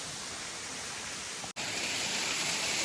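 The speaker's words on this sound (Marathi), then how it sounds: "परत पाऊस सुरू झाला पाऊस येणार मोठा" Steady, dense night rain in a village hisses continuously, with a brief cut midway before the downpour resumes slightly louder.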